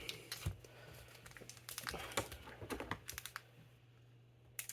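Crinkly plastic wrapper of a Pokémon card booster pack being handled and torn open up close, a run of irregular crackles and rustles, quiet with no talking.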